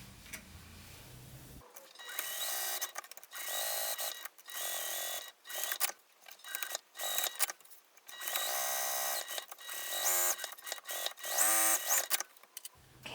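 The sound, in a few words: sewing machine stitching a bag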